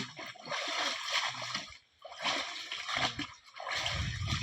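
A person dunks again and again into cold water, with bursts of splashing and sloshing split by short quiet gaps. A heavier, closer splash comes at the end, and faint voices sit in the background.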